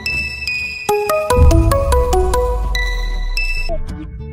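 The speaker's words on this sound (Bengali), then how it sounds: "এক মিনিট, আমার ফোন বাজছে।" A mobile phone rings with a loud melodic electronic tune of stepping chime-like notes, playing alone for several seconds.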